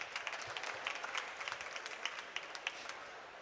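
Audience at a COP27 youth adaptation solutions event gives a round of applause, faint, distant clapping from a crowd, steady and continuous for a few seconds.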